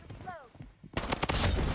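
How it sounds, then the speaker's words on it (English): A base gun in the Blood Strike video game fires a quick burst of close, loud shots in the second half, following a brief spoken word and other faint game sounds. "the hip fire on this base gun is terrible"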